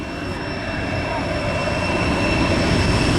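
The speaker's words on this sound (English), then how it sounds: "on stage at center stage now, the Griffon helicopter with a wave to you, left and right" An RCAF CH-146 Griffon helicopter performing at the 2012 Waterloo Airshow, a loud, steady rotor and turbine roar close by with a constant high whine above it.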